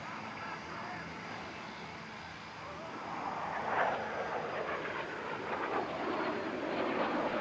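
Jet aircraft pull up together in an airshow display at Villaroche near Paris, a distant roaring engine wash that swells louder midway and stays up, with crowd noise around it.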